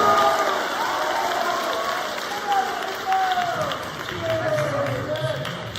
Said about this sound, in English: Let's give him a round of applause right over here.